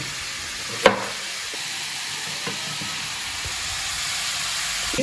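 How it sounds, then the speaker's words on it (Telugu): Chopped ginger frying in oil in a pan for a dhaba-style paneer curry, a steady close sizzle throughout with a sharp clink of utensil near the start and no talking. "దీన్ని ఈ విధంగా మంచిగా ఫ్రై చేసుకోవాలి"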